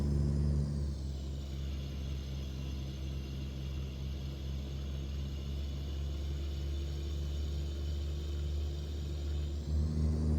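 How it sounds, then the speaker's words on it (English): Modded engine sound of a truck in a driving simulator game, a steady low droning rumble with a faint whine that dips slightly and rises again near the end, heard alone. "One of the mods that I am using is the engine sound."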